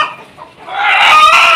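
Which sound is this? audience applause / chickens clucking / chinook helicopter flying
chickens clucking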